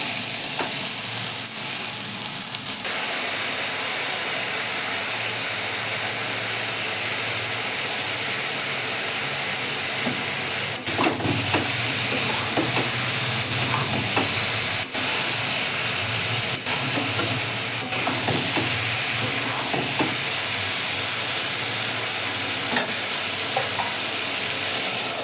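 Ridge gourd and potato posto frying in a pan at home, a steady broad sizzle and hiss with scraping stirs around the middle and late stretches, near and continuous.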